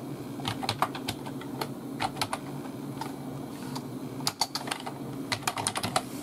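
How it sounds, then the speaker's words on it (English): Typing on a vintage PS/2 computer keyboard: irregular bursts of clacky keystrokes at close range, over a low steady background hum, with no speech. "I'm gonna type something."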